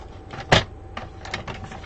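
A sheet of crisp cantaloupe cardstock is cut on a craft table, one sharp close slice or trimmer chop followed by quieter scraping and handling rustles.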